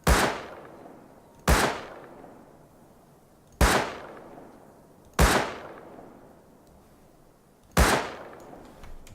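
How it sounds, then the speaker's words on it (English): Gunshots from hip-firing a gun in the survival game Rust: five loud, sharp single reports spaced a second or two apart, each with a short decaying tail, and no talking. "Now I can actually hip fire."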